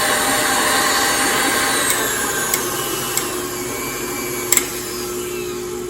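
An electric stand mixer running on high, creaming butter and sugar for caramel cake batter, a steady loud motor whir with faint periodic ticks from the beater, no speech.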